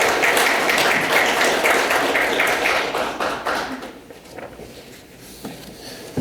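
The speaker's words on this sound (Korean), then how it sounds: "박수로 환영해 주시면 감사하겠습니다." Audience applause at a Korean national-strategy think tank forum, a dense, steady wash of clapping for about four seconds that then thins and fades to scattered claps.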